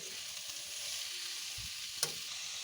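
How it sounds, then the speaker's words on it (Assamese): Green chilies and potatoes fry in a pan with a steady, close sizzle while being stirred, and a single sharp clink of the spatula cuts through near the end. "এতিয়া জলকীয়া আৰু আলুখিনি দি দিছোঁ, আকৌ অলপ লৰাই লওঁ।"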